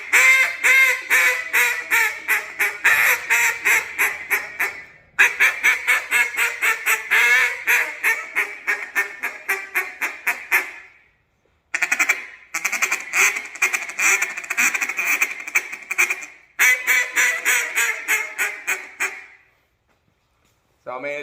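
Long runs of rapid, loud duck-call quacks, repeated in bursts with brief pauses, some ending in squeals; a voice imitates a duck through a JJ Lares hybrid reed call.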